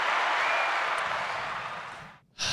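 Applause sound effect triggered from a button on a live stream: a steady wash of clapping and crowd noise that holds for about two seconds, cuts out briefly, then bursts back in.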